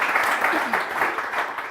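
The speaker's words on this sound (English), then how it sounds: "another round of applause for our CEO and our Chief Acceleration Officer" Conference audience at a demo day applauds the CEO and Chief Acceleration Officer, a dense wash of clapping with a voice faintly underneath.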